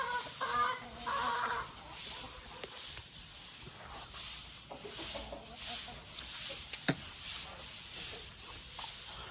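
Farm chickens cluck and murmur nearby in soft, irregular bursts, with a few sharper calls and faint rustling scratches in a quiet yard.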